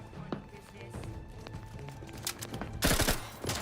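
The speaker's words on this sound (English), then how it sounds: "I do wish that this thing was semi-auto rather than burst fire." Burst-fire weapon shots in The Outer Worlds 2, with clusters of quick close reports coming louder toward the end over quieter background game sounds and a brief voice.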